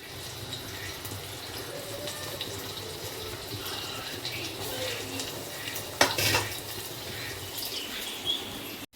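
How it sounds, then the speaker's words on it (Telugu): Hot tempering of cumin and mustard seeds is poured into salted yogurt for brinjal curry, bringing a brief burst of sizzle and clatter against a steady background of kitchen noise and faint dish sounds. "ఇప్పుడు తాల్పు ఇందులో వేసుకుంటా"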